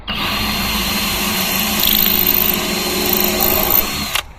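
A power drill bores screw holes through a wood board laid in a truck bed, a loud continuous high whine held for about four seconds before stopping abruptly.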